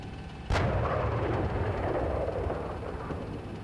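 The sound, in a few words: gunfire in a military video game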